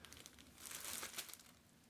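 A clear plastic bag around a Christys' Finchley fur felt trilby hat is handled up close, giving a soft, continuous crinkling that swells briefly before easing off.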